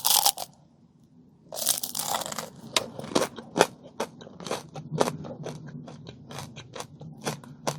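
Repeated crisp bites and crunchy chewing on a canelé pastry, a dense run of sharp crackling snaps close to the mic after a brief quiet start, steady and fairly loud with no talking.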